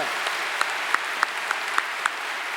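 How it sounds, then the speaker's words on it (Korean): Large church youth and college group applauding at a special dawn prayer service, a broad crowd clap with a few sharper individual claps standing out at a steady pace. "우리 청년대학부 박수하겠습니다."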